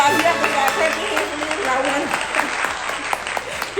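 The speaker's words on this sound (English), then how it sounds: "You have to clap your hands" A small family group claps for Liz at home, with uneven close hand claps running steadily and voices chatting over them.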